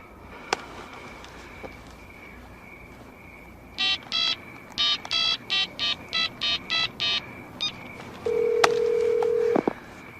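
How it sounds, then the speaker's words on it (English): A telephone being dialed: a quick run of about ten clear touch-tone beeps in an even rhythm, close and loud, followed by a sustained tone and a click, with no one speaking. "Dial him up."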